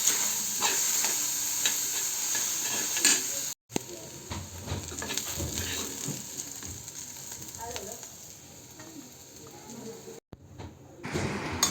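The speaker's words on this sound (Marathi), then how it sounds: "ते कांदा पहिला परतवून घेते" Onion frying and being stirred in a pan for a Marathi onion-coconut masala, a steady close sizzle with scraping stir strokes and two brief dropouts; no talk.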